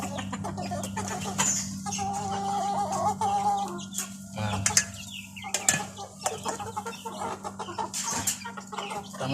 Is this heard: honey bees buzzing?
no